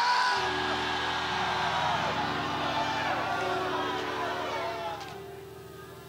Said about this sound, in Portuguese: Grita, mas grita alto. Grita!